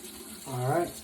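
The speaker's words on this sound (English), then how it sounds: "I'm gonna switch it over to cold water to rinse this off with" A bathroom sink tap runs water for a moment, a brief swelling rush that peaks and fades within a second, close by, with no talking over it.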